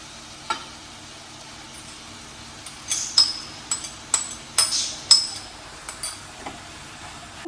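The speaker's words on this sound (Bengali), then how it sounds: "এই সময় যে গ্রেট করা যে আলুটা ছিল, সেই আলুটা দিয়ে দিচ্ছি" Grated potato goes into a pan of cooking chicken filling for club kochuri: a faint sizzle runs underneath while a metal spoon stirs and clinks sharply against the pan in a loose series of strikes.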